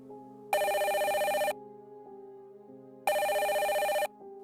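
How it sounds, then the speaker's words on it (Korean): A telephone bell rings loudly in two long bursts about a second each, separated by a quiet pause, with a faint low hum underneath and no talking. "전화가 울렸다."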